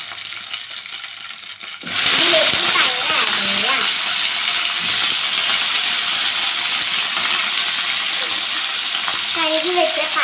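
Curry leaves and green beans go into a hot pan for a Kerala-style bean stir-fry, setting off a sudden loud, steady sizzle after a quieter stretch, with a voice speaking over it.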